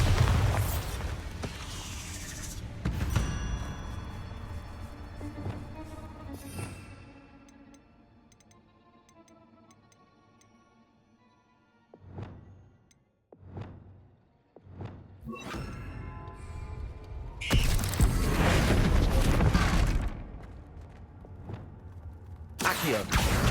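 The Bombarda blasting spell in Hogwarts Legacy, heavy booming explosions with thuds, loud bursts at the start and again near the end, a few separate hits between, and quieter rumbling lulls.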